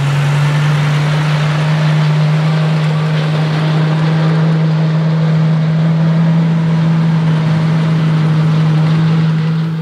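A Tier 3 tractor engine idles steadily with a deep, constant low hum and rumble, loud and close, with no voices.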